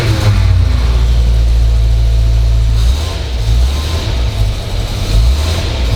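A Buick engine revving as the throttle is pressed, a loud close low rumble that holds steady and then dips and surges slightly, with no talk over it.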